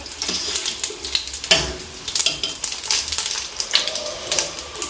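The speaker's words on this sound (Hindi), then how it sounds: "ज़रा सा इसको भूनेंगे।" Curry leaves, cinnamon, green and black cardamom and cumin frying in a pan, a dense continuous crackle and sizzle with rapid popping bursts, close and steady throughout.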